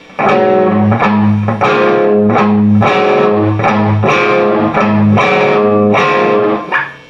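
A distorted electric guitar riff plays loud, rhythmic chord stabs in quick repeating bursts, with no voices.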